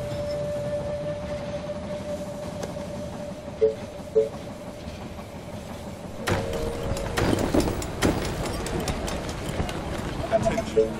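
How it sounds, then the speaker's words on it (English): A train in the video game They Are Billions rumbles and clatters into a station with squealing tones and rhythmic clacks, while a voice makes announcements over it. "The train has arrived at the station."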